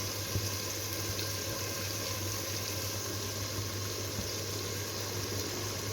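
Water running steadily into a Turkish kuşbaşı güveç being prepared, a continuous moderate gush over a faint hum with no pauses.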